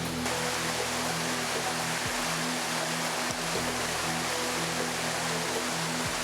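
A swift, flood-swollen river rushes steadily past an emergency log bridge, a dense, continuous roar of water with occasional low thumps beneath it and no voices.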